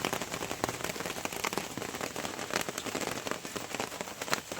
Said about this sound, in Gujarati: અહીંયા વરસાદ પડે છે એટલે ભાઈ જબરો વરસાદ પડે છે યાર